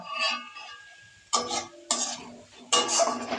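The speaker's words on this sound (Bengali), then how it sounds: "পেঁয়াজ রসুন কষানো হয়ে গেছে এবার এর মধ্যে দিয়ে দেব চেরা কাঁচা লঙ্কা" A spoon stirs onion, garlic and slit green chillies frying in a pan, making three or four distinct scraping strokes with soft sizzling between them, close and without talk.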